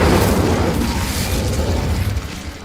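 Blast of the Incendio fire spell in the video game Hogwarts Legacy, a loud roaring whoosh of flame and rumble that starts strong and slowly tails off over a few seconds, close and alone.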